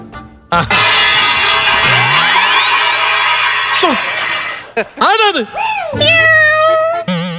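A cat meows several times, close and loud, with rising and falling cries in short bursts amid some background noise.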